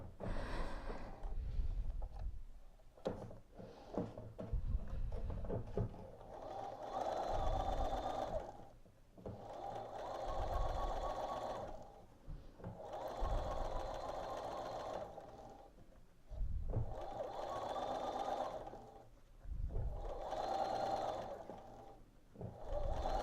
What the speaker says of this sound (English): Okay, so I'm going to sew this last edge here.